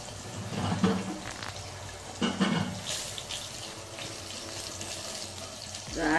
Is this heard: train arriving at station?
no